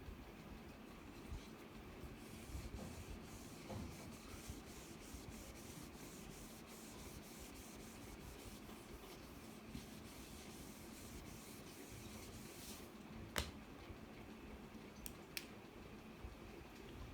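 A written diagram is rubbed off a board during an industrial engineering lecture, making a steady, continuous scrubbing that goes on for many seconds with a couple of faint knocks and no talking.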